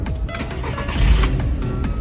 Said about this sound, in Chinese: 下边我就进车里边启动，看看能不能打着火